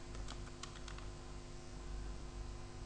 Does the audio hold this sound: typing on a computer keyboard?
yes